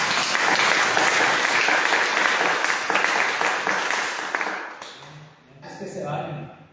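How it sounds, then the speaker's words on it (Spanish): A room full of people applauds loudly for several seconds, the clapping fading out as a voice starts to speak. "Un aplauso para ustedes."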